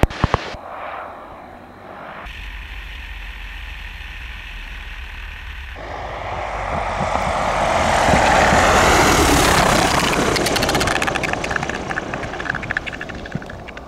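Small airplane touching down on a runway in a crosswind, heard from inside as a steady engine and airflow drone that swells into a loud, broad rush of rolling and wind noise.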